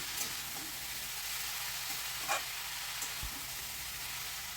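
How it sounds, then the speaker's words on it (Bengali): Tomato, green chillies and fried potatoes are stirred together in a sizzling pan, with a steady moderate frying hiss and a few faint scrapes and knocks of the spoon against the pan. "ভালো করে নেড়ে ছেড়ে পুরোটা মিশিয়ে দিচ্ছি"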